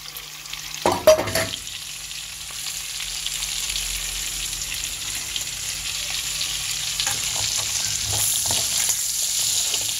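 Onion and garlic hit a pan of already fried prawns, giving a continuous loud sizzle with a few early clanks of stirring, no voices.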